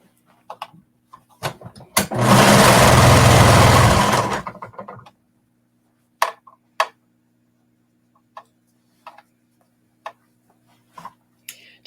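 A sewing machine stitches a sports bra seam through the lining and main fabric in one continuous loud burst of about two seconds. Short clicks and handling sounds come before it, and scattered taps follow in a quiet room.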